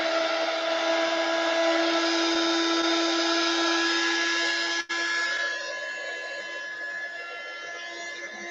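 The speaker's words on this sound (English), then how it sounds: "This is a hot air gun. I'm going to use this to dry it a little bit." A steady, loud blowing whir of a hot air gun drying watercolor paint runs continuously, with a brief cutout near the end before it resumes slightly quieter.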